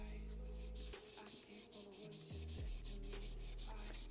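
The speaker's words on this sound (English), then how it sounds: "See, it's sanding right here on the tip." Tip of a Lishi 2-in-1 lock pick being sanded on 600 grit paper, a soft continuous rubbing and scraping close up over a low steady hum.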